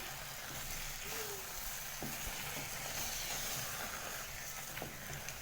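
Chicken curry with added water simmers in a pan, giving a faint steady sizzle and soft bubbling hiss throughout with occasional small pops, no voices.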